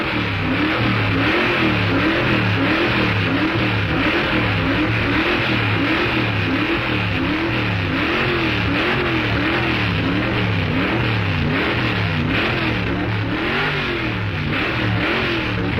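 A 1958 hot rod engine revs at the drag strip start line, loud and close, with a steady wavering roar that pulses rhythmically throughout and no talk over it.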